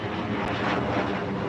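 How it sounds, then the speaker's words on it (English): An airplane passes overhead near a railroad crossing, a steady broadband engine roar holding at a constant level throughout, with no talk over it. "Another airplane going over where we are"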